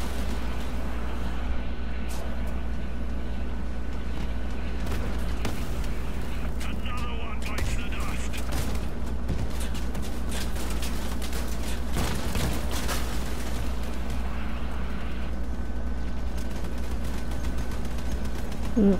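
ATGM missiles fire repeatedly in the Crossout vehicle combat game, with several sharp launches and blasts standing out over a steady engine drone and dense battle noise.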